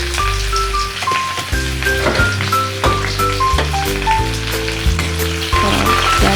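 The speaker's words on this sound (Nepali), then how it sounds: "मैले प्याज काटेर हाल्दिए त्यहाँनिर" Chopped onion fries in hot oil with a constant sizzling crackle, heard beneath louder background music with a steady melody and bass.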